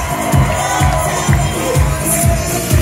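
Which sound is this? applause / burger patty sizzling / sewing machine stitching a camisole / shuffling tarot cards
applause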